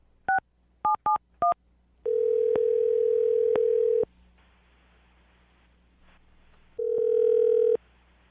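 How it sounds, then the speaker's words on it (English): Four quick touch-tone beeps, then a steady phone ring tone sounding twice with a pause between, clear and close with no talking. "I'm going to dial the phone number right now"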